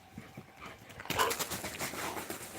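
A dog pants and huffs close by in quick rhythmic breaths, growing louder after a quiet start, with no talking.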